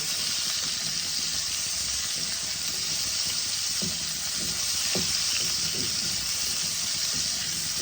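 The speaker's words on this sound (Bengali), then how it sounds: "এবার আমি পটলগুলোকে লাল লাল করে ভেজে নেব।" Pointed gourd (potol) frying in hot oil with salt and turmeric until reddish, a steady close sizzle running throughout with a few brief scraping stirs.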